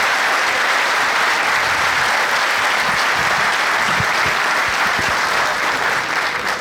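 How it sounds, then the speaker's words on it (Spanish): A theatre audience applauds at a union gathering, a dense, steady wash of clapping that fills the room at full volume from start to finish, with no break and no voices standing out. "yo les pido a todas y a todos un aplauso para este emblema de nuestra cultura"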